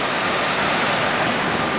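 A river at a salmon fishing spot rushes steadily, a dense broadband roar of flowing water that stays close and constant with no voices.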